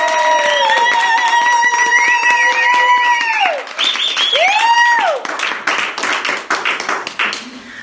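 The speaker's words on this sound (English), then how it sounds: "Can we have a thunderous round of applause in the room?" A live podcast audience in a room erupts in loud, sustained applause mixed with whoops and cheers, the clapping dense and close before thinning out toward the end.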